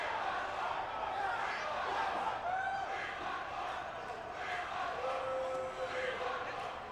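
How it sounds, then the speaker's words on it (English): Game crowd in WWE 2K22 wrestling arena filling the scene with steady, loud roar and scattered jeers, a sustained boo-like tone rising near the end, with a voice faintly mixed in. "That one dude booing again."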